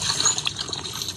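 Shower water runs in a steady hiss and spatter, close and fairly loud, with no voices.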